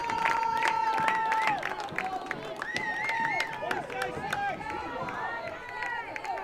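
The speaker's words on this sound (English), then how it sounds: "I think this is the loudest I've ever heard the crowd at SVU." A crowd at a college men's lacrosse game between the SVU Knights and Piedmont University roars with sustained cheering, shouts and whistles. Clapping runs underneath as the noise rises and falls.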